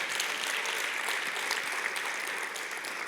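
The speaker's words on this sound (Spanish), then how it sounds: "Dale un aplauso que es para él." A church congregation gives a round of applause, a dense, even wash of many hands clapping throughout, moderately distant and fairly soft, with no speech over it.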